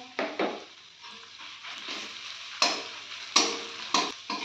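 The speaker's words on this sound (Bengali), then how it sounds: "পেঁয়াজটা আমার ভাজা ভাজা প্রায় হয়ে গেছে। এবার এর মধ্যে আমি 1 চামচ রসুন" Ground onion paste with garlic paste sizzles softly in a pan, punctuated by several sharp scraping stirs of a spoon against the pan, close and without talk.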